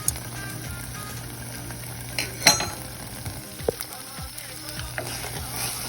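Beetroot halwa with fried cashews and raisins stirred in a pan, giving soft scraping and gentle sizzling with a few brief clinks of the spoon against the pan, close and fairly quiet.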